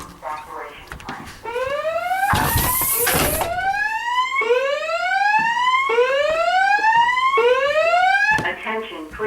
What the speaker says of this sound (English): The signal you have just heard indicates a report of an emergency in this building.